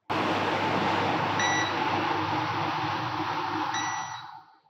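Buzzer-range beep from a multimeter testing a shorted VDR on a mobile phone circuit board: a steady electronic tone held for several seconds, loud and alone, fading out at the end.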